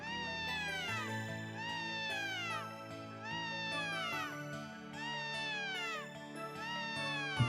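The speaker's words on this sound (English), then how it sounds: "It's a ship cat." A cat in the game Ys VI: The Ark of Napishtim meows repeatedly, a ship cat giving a steady string of clear, drawn-out calls at close range with no talk over them.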